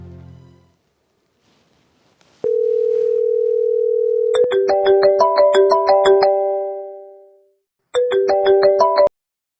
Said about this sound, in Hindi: एक बार मैं फिर दोबारा उसको फोन करती हूँ